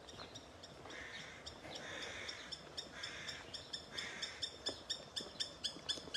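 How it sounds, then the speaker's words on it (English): Several birds calling outdoors, including crows and a heron, with repeated sharp notes and a few hoarse phrases over a light background hiss, ending in a quickening run of calls, no speech. "You hear all the birds."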